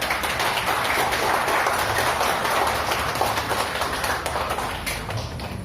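An audience at an official inauguration ceremony for a new head of the national narcotics agency applauds in a continuous, even roar of many hands that tapers slightly at the end.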